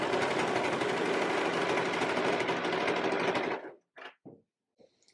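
A sewing machine stitches a beginner's Esmeralda-inspired dress bodice, running in a steady loud whir for several seconds before stopping, followed by a few short handling sounds and quiet clicks.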